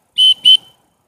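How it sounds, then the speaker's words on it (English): A double-sided survival kit whistle gives two short, loud, shrill blasts close by, with nothing else around them. "The whistle that came with the survival kit."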